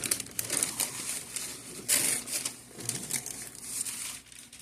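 Paper crinkles and crumples close up as it is peeled away from a decorated Dragonball Z fake cake, in several uneven rustling bursts with short pauses between them.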